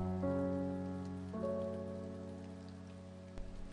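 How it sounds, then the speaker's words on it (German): Rain falls outdoors in the game A Bird Story, a soft steady patter sitting beneath sustained gentle musical tones, with a small bump near the end. "Denn es regnet wirklich draußen."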